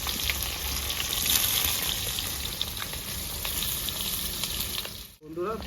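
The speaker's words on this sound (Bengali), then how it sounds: "আলু ভেজে নেবো" Potatoes frying in oil in a pan give a dense, even sizzle close by, with a few faint stirring knocks and a brief break near the end.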